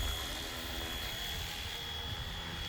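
A Flywing FW450 RC helicopter flies nearby with a steady, unbroken rotor and motor whine that stays at an even loudness throughout.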